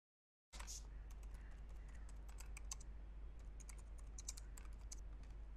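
Fast, light keyboard typing on a computer keyboard, close and quiet, a run of soft irregular clicks over a steady low hum, no talk.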